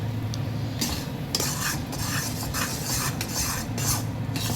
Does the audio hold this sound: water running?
no